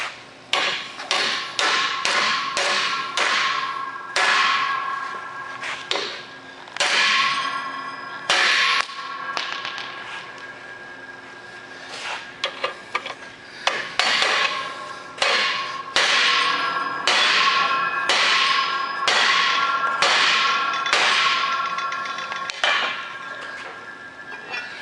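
A hammer strikes an exposed lock mechanism repeatedly to knock off its locking tabs, giving sharp, ringing metallic blows that come in irregular bursts, some quick and clustered and others spaced apart, loud and close.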